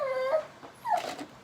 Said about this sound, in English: my dog's crying